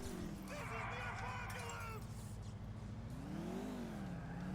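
A car in GTA IV drives with a steady engine drone that rises and falls as it revs, a low continuous rumble heard close beneath someone talking.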